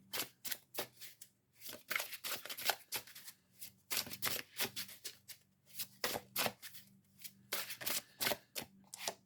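Tarot cards being shuffled in bursts of crisp riffling and slapping, close and fairly quiet, in quick irregular rounds with short pauses between, no talking.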